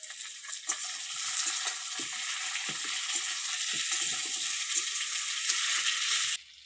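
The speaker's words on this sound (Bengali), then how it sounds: "এবারে ভালো করে একটু নেড়ে নেব।" Ginger and cumin paste sizzles steadily as it fries in a pan, with soft scraping stir strokes scattered through the hiss, close and moderately quiet, and the sizzle cuts off abruptly at the end.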